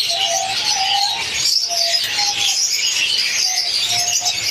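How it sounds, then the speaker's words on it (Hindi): Pigeons cooing repeatedly during the rainy season while birds drink water, a soft, close, rhythmic cooing over a dense bed of chirping and bird calls that continues throughout. "लेकिन देखिए परिंदे कितने शौक से पी रहे हैं"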